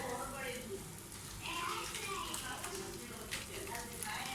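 Flour-coated chicken sticks fry in oil over moderate heat, giving a steady broadband sizzle and crackle that runs throughout, with someone talking over it.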